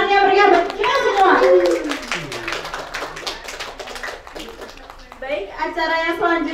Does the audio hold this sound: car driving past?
no